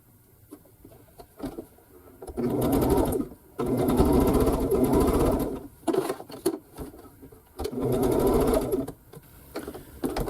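A sewing machine runs in several separate bursts of rapid, close stitching on a scrappy quilt block, with short quiet pauses between runs.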